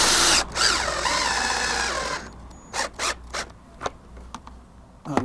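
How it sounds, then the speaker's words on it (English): A power drill drives self-drilling screws through plastic fascia into wood, a loud whirring run for about two seconds, then a string of short trigger bursts and clicks, close and without talk. "Using some self-drilling screws here."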